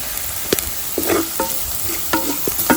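Spices, turmeric, chilli powder and curry leaves fry in a pan for mackerel sukka, a soft steady sizzle broken by scraping stirs and clinks of a spoon, close up and with no talking.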